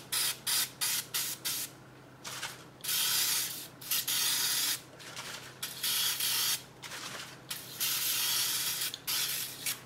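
Oven cleaner sprayed onto a stained grill pan in repeated short hissing bursts, some quick and others held for a second or two, close to the microphone with no talking.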